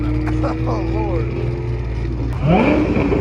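A car passes under a steady engine drone, and a rising supercharger whine climbs in pitch as it accelerates near the end. People are talking over it.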